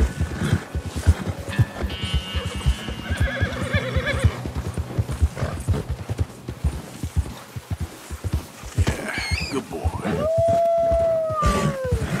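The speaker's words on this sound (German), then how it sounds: "Die Wölfe kommen schon" Wolves howl in Red Dead Redemption 2 near a run-down village, a long rising-and-falling howl near the end after a stretch of horse hooves clip-clopping and a horse whinnying, with game ambience around.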